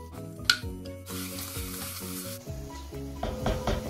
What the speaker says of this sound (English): Straight in with your olive oil, and we're just going to brown off this lamb for about 5 to 10 minutes.